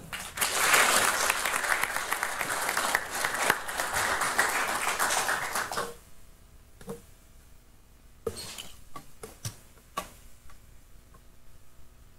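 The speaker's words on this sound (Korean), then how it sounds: "큰 박수 부탁드리겠습니다" A crowd at a presidential-candidate press conference in Korea applauds loudly for about six seconds, then stops abruptly, leaving a quiet room with a few scattered clicks and taps.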